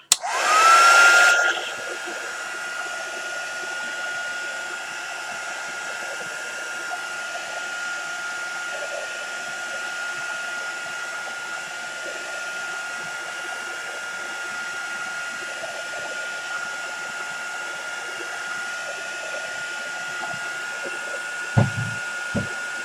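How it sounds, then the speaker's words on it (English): A heat gun dries stencil paint on a Hogwarts model, running as a steady, close whooshing drone with a thin whine for over twenty seconds, louder in a brief burst at the start. "there goes the stencil's heat gun"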